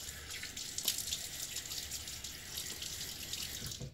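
Steady hiss of water running from a bathroom tap into a sink, continuous and close, as the face is wetted before a wet shave.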